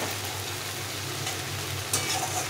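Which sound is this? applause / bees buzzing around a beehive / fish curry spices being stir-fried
fish curry spices being stir-fried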